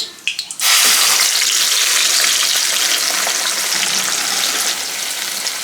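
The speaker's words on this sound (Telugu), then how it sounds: "ఇవి వేగిపోయిన తర్వాత మనం మిక్సీ పెట్టుకున్న టమాటా ఉల్లిపాయ పేస్ట్ వేసుకుందాం." Blended tomato and onion paste hits hot oil with whole spices for tomato rice, bursting into a loud, continuous sizzle after a few soft clinks at the start, and it stays close and steady throughout.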